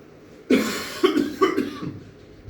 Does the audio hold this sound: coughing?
yes